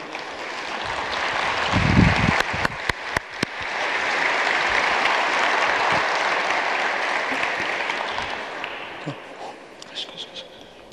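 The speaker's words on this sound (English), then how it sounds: "please give them one round of applause again" A room full of people applauds a group of FC Continental football players, with steady clapping that swells and then slowly fades, a few sharper claps standing out near the start.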